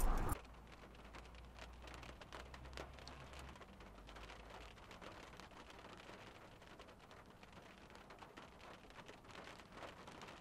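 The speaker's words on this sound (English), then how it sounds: "I've got to get out in the rain" Rain falls steadily outside, a soft continuous patter on surfaces with a faint low rumble, heard alone and at a quiet, even level throughout.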